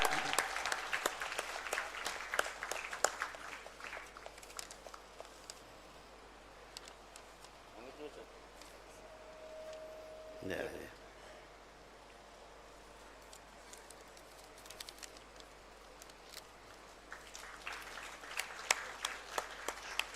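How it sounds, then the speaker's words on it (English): Applause for a prize winner at the JAPICON 2023 medical conference in Jharkhand, a quiet, distant audience clapping steadily in a hall, fading midway and then rising again. "Please give a big clap."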